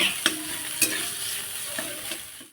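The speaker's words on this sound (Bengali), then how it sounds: "এই আলুটা দিয়ে দেব ভালো করে একটু নেড়ে নেব" A spoon stirs mashed potato into a semolina mixture in a pan, a soft continuous scrape with a few sharper clinks against the pan, close and alone with no talk.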